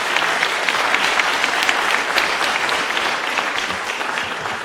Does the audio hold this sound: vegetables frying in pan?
no